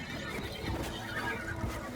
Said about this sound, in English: They have horses in Warframe!